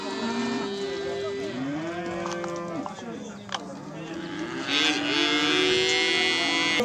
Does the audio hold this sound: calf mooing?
yes